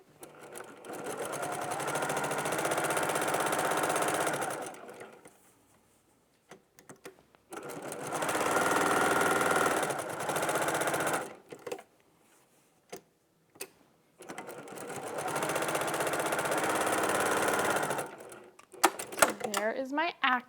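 A sewing machine sews fabric pieces one after another in three long runs of steady rapid whirring, separated by pauses with small clicks and handling sounds.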